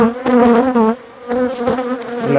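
Honeybee colony buzzing loudly inside an open hive during a late-summer inspection, a steady close drone with wavering pitch that dips briefly in the middle and then swells again.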